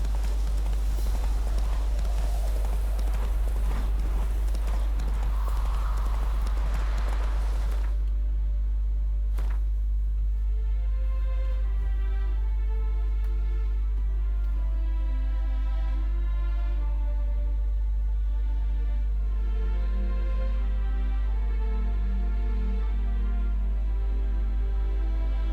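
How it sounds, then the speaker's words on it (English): A horse in The Witcher 3 video game gallops with rhythmic hoofbeats, loud and dense for the first several seconds, then settling into softer, steady clip-clop under a constant low hum. "Run, Roach"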